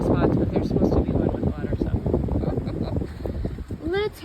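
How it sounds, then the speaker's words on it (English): Strong wind gusting along the Arizona Trail, a loud, broad rumble buffeting the microphone with fluctuating gusts, while a hiker talks over it and a bird chirps briefly near the end. "It is so windy today."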